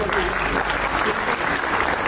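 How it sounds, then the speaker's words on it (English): An audience at a school annual day prize announcement gives a full round of applause. The clapping is loud, dense and continuous throughout, like a large hall full of people. "Let's have a huge round of applause."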